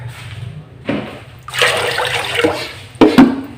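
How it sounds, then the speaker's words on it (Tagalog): Water poured into a bowl to rinse native chicken in a home kitchen, coming in several short splashing bursts with brief pauses, close and moderately loud. "Then, lagyan ulit natin ng tubig."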